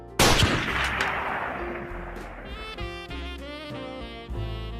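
A loud gunshot bursts out in a Squid Game scene, its echo trailing off as tonal dramatic music rises underneath with a few sharp hits.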